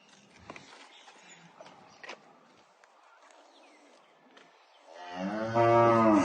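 A small, high-yielding dairy cow gives one loud, drawn-out moo near the end, after several seconds of quiet farmyard background with faint knocks and shuffling.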